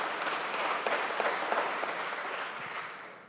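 Audience applause at a one-on-one interview event with Senator Jeff Merkley: dense, fairly loud clapping filling the whole stretch, slowly fading toward the end, with no talk over it.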